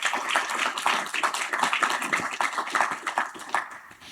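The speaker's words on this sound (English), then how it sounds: "So y'all give Kevin a round of applause." An audience at a tech meetup gives a round of applause: steady, fairly quiet clapping from a small group, sharp hand claps overlapping in an even patter that thins out toward the end.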